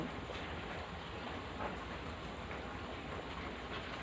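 Steady, dense hiss of heavy rain falling, continuous and even throughout with no voices.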